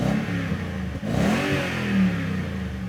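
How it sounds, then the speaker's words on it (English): A Toyota Tundra with a Flowmaster FlowFX dual middle side exit exhaust revs up, a deep throaty engine note rising and falling, with a brief dip and then a swelling roar, heard close and alone. "the exhaust featured in this video is the Flowmaster FlowFX dual middle side exit exhaust system"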